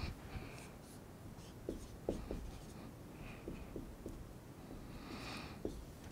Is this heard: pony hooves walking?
no